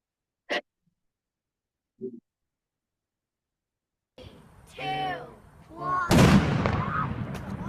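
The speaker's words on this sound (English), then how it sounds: "Here's the same oxyacetylene explosion as the condom bombs, but in a milk jug" An oxyacetylene gas mix ignited inside a plastic milk jug sets off one sharp, loud bang, followed by excited voices and cheering.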